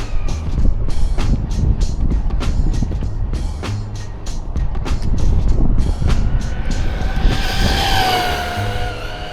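A brushless Arrma Granite V4 223S BLX RC monster truck runs at full throttle with its tires ballooning, giving a loud, continuous high-revving motor whine over rough tire and ground noise. A sharper rising whine swells near the end.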